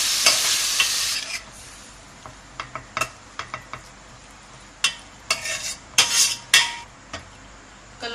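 Chicken cooks in a pan for a chicken lasagna, opening with a brief loud sizzle, then a series of sharp scraping and clinking stirs against the pan at an uneven rhythm, close up with no talking.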